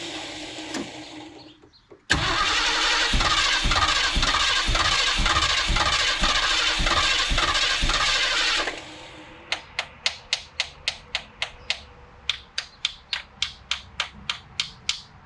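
A 1976 Ford Ranchero 500 engine cranks loudly and steadily for several seconds with a rhythmic starter churn, then breaks off into a run of sharp, evenly spaced ticks and clicks.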